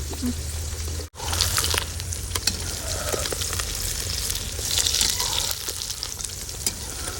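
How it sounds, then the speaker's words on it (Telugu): Eight beaten eggs fry together as one large omelette in a hot pan, giving a loud, continuous sizzle that cuts out for a split second early on and then carries on steadily. "8 కోడిగుడ్లు ఆమ్లెట్ ఒకేసారి వేసేసా"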